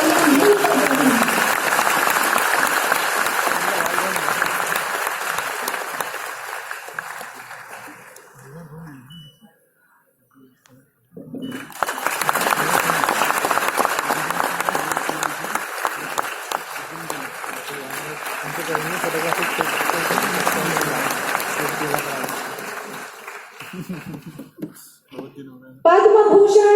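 At the Champions of Change 2023 award ceremony, an audience applauds in two long waves separated by a brief lull, the clapping steady and moderately loud beneath a speaker's voice.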